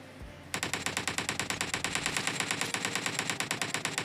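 Rapid automatic gunfire in a mobile shooter game played on a Redmi Note 8 Pro, a loud, sustained burst of evenly spaced shots lasting several seconds.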